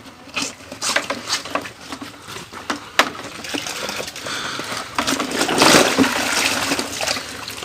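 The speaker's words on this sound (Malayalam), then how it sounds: "ജസ്റ്റ് ആ സിബൊന്ന് തുറന്നു കൊടുത്താൽ പോകും കേട്ടോ വെള്ളമൊക്കെ" Muddy water running out of a freshly washed school bag through its opened zip, close splashing and pattering with uneven gushes that swell into a heavier pour near the end, with no talking.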